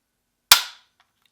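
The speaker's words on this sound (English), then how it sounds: "I can't hardly tell my finger moves and it fires" A single sharp shot from a Winchester XPR rifle in .270 Winchester, one abrupt crack after a moment of silence that decays quickly, with a faint echo trailing off.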